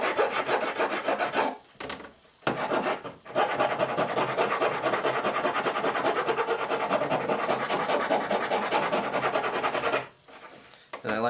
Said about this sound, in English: Clamp it down, come along with the file, round the flats with the flat.